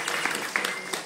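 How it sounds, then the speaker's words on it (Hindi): A congregation at a Bhagwat Katha religious gathering claps in a brief burst of scattered, moderately loud applause. "तो एक बार ताली बजा दो भाई"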